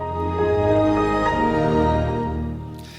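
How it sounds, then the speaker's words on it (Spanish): A Windows computer chime plays as a short, rich, sustained synth chord that swells and then fades, with nothing else around it. "computadora Windows, que suena algo así."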